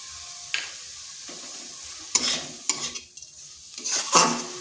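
Cabbage being stirred in a pan with chilli powder and sugar, a spoon scraping and turning it in bursts over a low sizzle, loud clattering strokes coming close together near the end.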